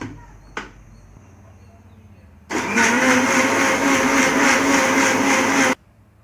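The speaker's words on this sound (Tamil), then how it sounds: "இதை நல்லா அரைச்சி எடுத்துக்கலாம்." Mixer grinder blending amla, pomegranate and orange juice with ice cubes, starting abruptly after a brief clink and running loud and steady for about three seconds before cutting off sharply.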